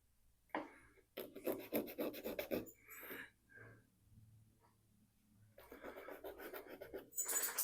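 Sanding a plastic part for a budget Millennium Falcon scale model, heard as bursts of scratchy, rasping rubbing strokes, close and fairly quiet, stopping and starting with pauses between them.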